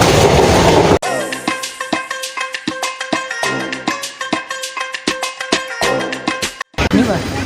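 A train rattles past at a railway station on a family trip to Jayanti, its wheels clacking in a steady, loud rhythm with brief tonal squeals, broken by a short cut near the end.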